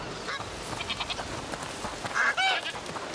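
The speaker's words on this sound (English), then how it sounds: "gigantic goose" A goose honks in the video game A Plague Tale: Requiem, with a few nasal calls rising over a low background bed of game ambience, fairly close and brief.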